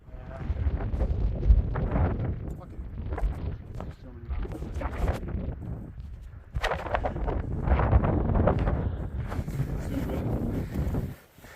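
Cold wind buffets the microphone on a snowy, frosted mountain summit in a freak snowstorm at Crawford Notch, New Hampshire, a loud rushing roar in surges with a person speaking over it.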